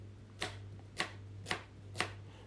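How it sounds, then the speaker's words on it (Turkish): A large carrot being diced into cubes with a knife, four evenly spaced crisp chops on a board about half a second apart, over a steady low hum. "Havuçları da şöyle küp küp doğruyorum."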